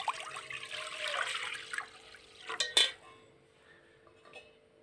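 About a litre of water pours into a kadhai on a gas stove, a steady rushing splash for about two seconds, followed by a few sharp metallic clanks of the pan and utensils, then quiet.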